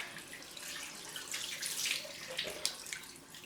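A tap runs into a sink for a cold rinse after a head shave, a soft, moderately quiet stream with splashing that swells in the middle and includes a brief splash near the end.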